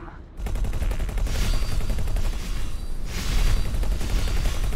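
Sustained, loud ship gunfire in X4 Foundations, a steady dense barrage of rapid shots that starts abruptly and keeps rolling without pause, swelling slightly toward the end.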